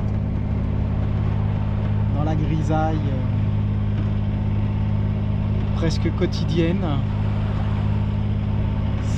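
A sailboat's inboard motor chugs in a steady, even hum while the boat motors calmly over slight swell. The drone continues at a constant level throughout, with someone speaking briefly over it.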